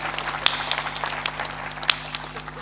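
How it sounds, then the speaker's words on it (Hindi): A crowd at a devotional religious gathering claps together in a short, dense patter of applause, sharp hand claps overlapping at moderate loudness. "उसके लिए ताली बजा दीजिए।"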